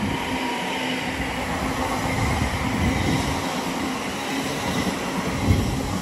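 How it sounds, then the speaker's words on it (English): A West Midlands Railway class 730 electric train, running as a pair, passes on a test run at Watford Junction on the West Coast Main Line: a steady, broad rolling roar with wheel rumble, sustained throughout and close. "Now back on the move will be a Westminster Railway 730 on test runs from Bletchley carriage sidings to London Euston."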